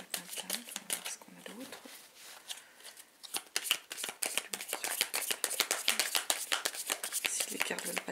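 Tarot cards shuffled by hand, dense close riffling and slapping continuing throughout, with a voice talking over part of it.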